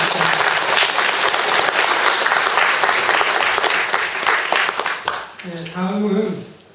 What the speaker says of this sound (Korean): 여청지 회장님께 큰 박수 한번 부탁드립니다